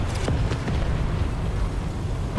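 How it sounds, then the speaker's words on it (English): A deep, rumbling explosion from the War Thunder tank battle game rolls on as a sustained low boom and crackle, with no distinct break through the short span. "That was an explosion."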